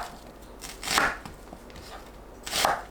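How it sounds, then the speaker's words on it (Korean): A knife chops onion into bite-size pieces on a cutting board, with a few distinct cutting strokes spaced out over a few seconds, moderately close and with no talking. "양파를 한 입 크기로 썰어주세요."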